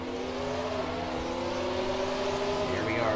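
Race cars in a 2005 MG Cup Series race at Bristol accelerating as the field gets back up to speed, a steady, loud engine drone with rising pitch throughout, layered from several cars at once.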